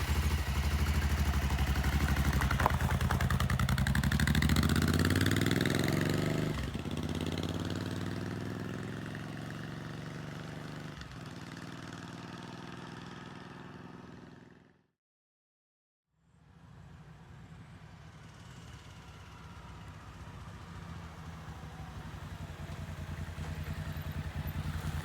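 A motorcycle fitted with an aftermarket windshield deflector runs steadily at highway speed, with a loud, continuous engine drone and wind rush that cut out briefly before resuming.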